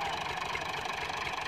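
A Massey Ferguson 240 tractor pulling a loaded trolley on sand, its diesel engine chugging in a steady, close, continuous rumble with a fast, even pulse and no voices.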